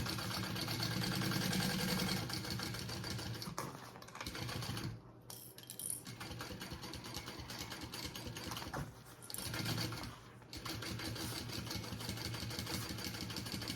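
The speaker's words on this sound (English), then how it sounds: "I'm gonna baste from this side so I am sure that I catch all my layers" A sewing machine basting through the layers of an Azalea bag, running in fast steady bursts with two brief pauses, close and loud.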